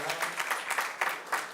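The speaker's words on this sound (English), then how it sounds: "Can we give our panel a round of applause?" An audience claps for a panel discussion, a short burst of steady indoor applause from a moderate-sized crowd, fairly close, with no talking.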